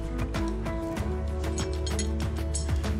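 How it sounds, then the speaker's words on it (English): Wrench and Allen key tightening a bolt, lock washer and nut on a meat grinder: steady ratcheting clicks and metallic mechanism noise close by, continuous throughout with no talking. "with an Allen key wrench and a normal wrench I tightened it up"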